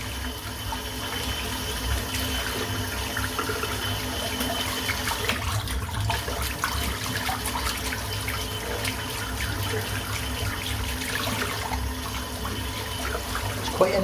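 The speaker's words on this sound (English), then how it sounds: "I'm going to rinse this brush out now." A dense, soap-laden shaving brush is rinsed under a running tap, with steady splashing water flowing continuously at close range, fluctuating slightly as the brush moves through the stream, and no voices.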